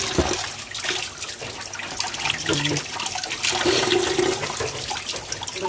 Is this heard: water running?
yes